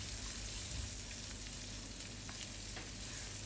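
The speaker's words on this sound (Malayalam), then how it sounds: "ഇനി സവാള നല്ലതുപോലെ വഴറ്റിയെടുക്കണം" Chopped onion sautéing in a pan after roasted nuts, a steady close sizzle and crackle of frying with faint stirring taps, no voices.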